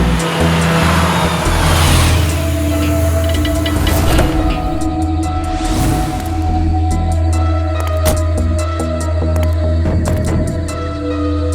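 A car engine running while driving, a loud steady low drone with shifting road noise and occasional higher rushing passes, continuing throughout with scattered clicks.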